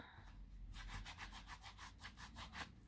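A wooden stamp is rubbed briskly with repeated back-and-forth strokes, giving a rhythmic scratchy scrubbing sound, close and fairly quiet.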